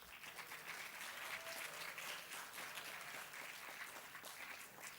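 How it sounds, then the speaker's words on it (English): Steady, dense applause from a large audience at the IR Magazine Awards South East Asia 2016 ceremony, sustained evenly at moderate level throughout, with no voices standing out. "Please join me once again in a round of applause."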